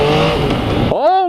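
A motorcycle with a stock exhaust revs loudly and close by, its engine note holding steady before a sharp rising blip near the end.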